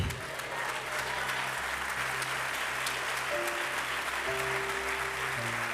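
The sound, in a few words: congregation applauding in church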